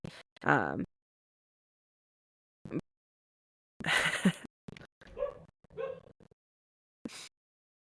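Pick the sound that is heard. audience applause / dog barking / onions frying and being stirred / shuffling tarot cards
dog barking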